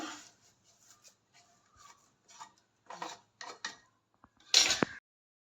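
A utensil scoops crispy fried okra out of a pan of hot oil, giving a few soft scrapes and light rubbing touches, then a louder clatter of metal against the pan near the end.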